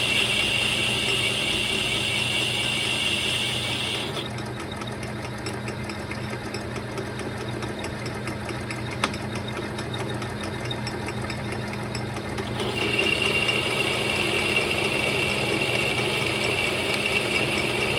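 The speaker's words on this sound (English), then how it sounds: "They're using the actual cutting wheel this time. A lot better than a hydraulic wheel I've been using before." A cutting wheel slices through metal for a mini Jeep build, a steady, loud, continuous grinding whine with a rattling mechanical undertone that holds unbroken throughout, with no talk over it.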